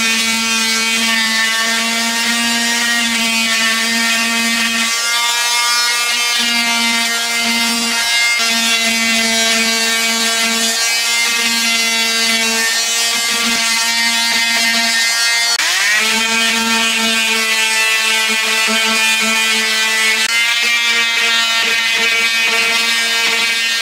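An old wooden dresser is being sanded with 100-grit sandpaper, producing a loud, continuous, steady mechanical drone with a strong buzzing tone that dips briefly midway, then carries on alone without talk.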